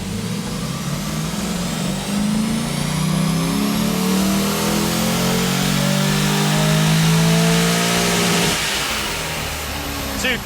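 A car engine roars at full throttle on a dyno, revving hard and climbing steadily in pitch for several seconds before easing off near the end.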